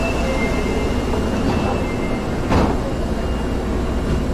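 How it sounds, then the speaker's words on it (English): Interior of a moving train: a steady, dense rumble of wheels and carriage noise fills the space, with a brief louder swell midway and no clear talk. "While riding the train."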